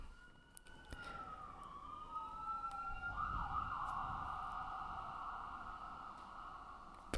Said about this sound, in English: if you're getting an ambulance rush to a hospital, I hope you get better.